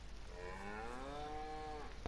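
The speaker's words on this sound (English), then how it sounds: "So that's the cows." A cow in the farming game Farming Simulator 19 gives one long drawn-out moo that rises and then holds steady, heard alone over a low ambient hum.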